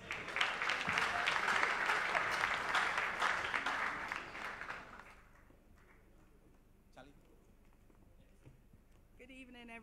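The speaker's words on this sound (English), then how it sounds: "please help me with yet another round of applause to welcome Augustine Ahimfo and Amake Abebrese." A large crowd applauds loudly and steadily for about five seconds at the Ghana Football Awards ceremony, then the clapping fades out, leaving quiet room tone and a few faint sounds.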